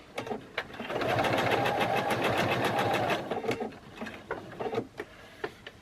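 A sewing machine stitches a coiled rope bowl in a steady rapid run of close needle clatter, pausing and then resuming in short bursts.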